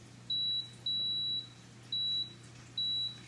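Oven control panel beeping as the timer is set to 20 minutes after choosing 350 degrees: four separate sharp electronic beeps of uneven length, loud and clear over a faint steady hum, with no talking.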